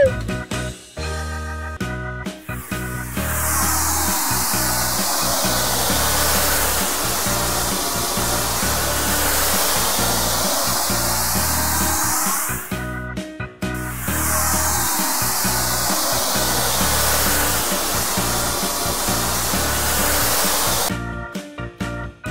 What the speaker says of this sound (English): Hot air balloon.